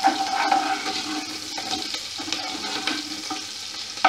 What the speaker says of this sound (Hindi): जैसे आप देख सकते हैं ज़ीरा तड़कने लगा है तो हम इसमें हरी मिर्च डाल देंगे।